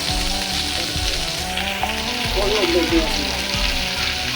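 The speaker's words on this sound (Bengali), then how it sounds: "এই তেলে আলুগুলা বাজ্যা লেগে আছে কড়া বাজা" Potato pieces fry hard in hot oil in a home kitchen, with a dense bubbling sizzle and a few scraping stirs of a utensil against the pan, close up throughout.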